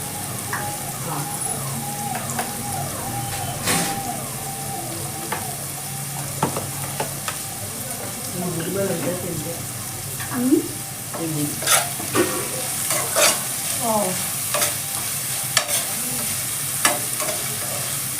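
Onions frying in a pan for a fenugreek-leaf chicken fry, with a steady sizzle and repeated scraping stirs of a utensil against the pan that grow busier toward the end.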